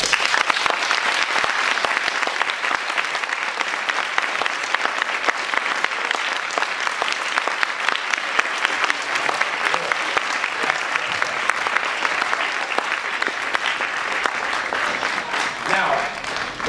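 An audience claps at a 2016 event, dense sustained applause from a crowd that stays loud and even throughout with no pauses.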